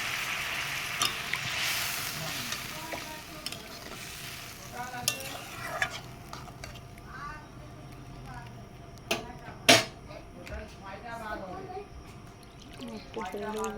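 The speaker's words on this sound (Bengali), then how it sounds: "ঢাকনাটা খুলে একটু নেড়ে চেড়ে দেবো।" Spice paste for a thin rohu fish curry with taro and potato is stirred in a pan over a low flame, scraping and sizzling steadily with clinks of the spoon, while someone talks over it at times.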